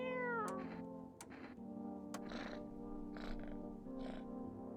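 A cat meowing in the game No, I'm Not A Human, with a few distinct drawn-out meows spaced across the moment over a steady low hum.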